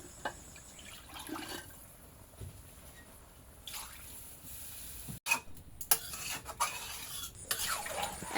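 Water goes into a pot of beef and ash gourd curry, a soft pour and splash followed by clinks of a spoon against the pot, quiet and close with no talking.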